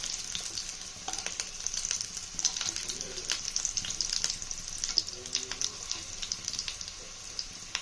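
Chicken cheese fry pieces cook in hot oil on a low flame, a continuous crackling sizzle with frequent sharp pops and spatters throughout, close and fairly loud, with no one talking.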